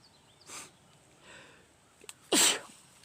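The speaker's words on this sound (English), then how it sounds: "Sorry, I feel a sneeze coming on." A single loud, close sneeze bursts out near the end, after a short sniff and breathy intake, with a person outdoors working in a yard by a house foundation.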